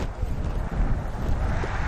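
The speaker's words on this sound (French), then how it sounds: "Le vent se lève." Gusting desert wind rising ahead of a rare storm in the Immidir region of the Algerian Sahara, a loud continuous rushing roar buffeting the microphone.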